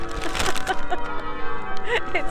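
Church bells ring loudly with rich, sustained overlapping tones, and a person talks over them at close range throughout.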